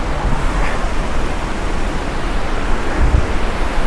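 Athirappilly waterfall roaring from a distance, a continuous broad rushing wash of falling water with no other sounds.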